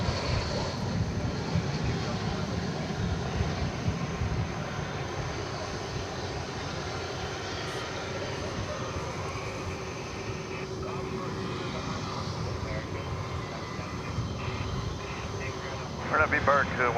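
An airliner takes off from DFW Airport at night, bound for Honolulu, a steady broad engine roar heard at a distance for the whole stretch, with a voice talking over it.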